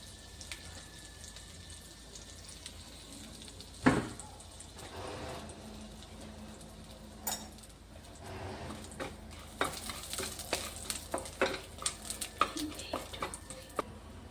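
Dry cumin seeds and a bay leaf dropped into hot oil for palak paneer: a faint, steady sizzle under scattered clinks and kitchen clatter, with sharper taps and scrapes crowding the last few seconds.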